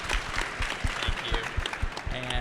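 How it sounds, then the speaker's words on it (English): A crowd at a conference claps steadily, a dense wash of hand claps filling the space with no voices on top. "Let's get a round of applause."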